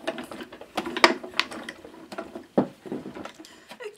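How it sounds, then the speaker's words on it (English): A die-cutting machine pressing a template through card for a poppy birthday card, heard as a series of close, uneven mechanical clicks and rolling creaks with short pauses between. "I'm going to pop the template on top and pop that through the machine."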